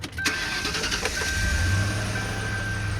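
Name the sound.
car engine starting, Ford Panther platform car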